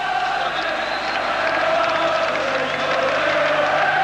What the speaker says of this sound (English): Meanwhile, the crowd have taken over.